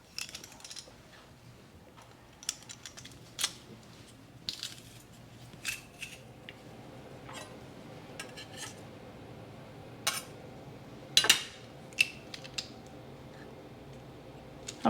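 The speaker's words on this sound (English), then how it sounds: "the garlic crusher or mincer, presser, whatever this thing is called" A handheld garlic crusher presses garlic in a home kitchen while pasta is made, giving scattered faint clicks, metallic ticks and squeezing crunches, with a few sharper snaps near the end; quiet, with no talk.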